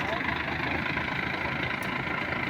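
A concrete truck mixer runs its engine at a steady idle close by, a continuous low rumble with a faint voice speaking over it.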